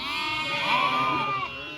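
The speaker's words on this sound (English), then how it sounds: "the lambs and the sheep are just about had enough" Sheep and lambs bleat together in a hot-weather lamb marking session, a dense overlapping chorus of wavering calls, one longer bleat rising clearly above the flock, fairly close and continuous.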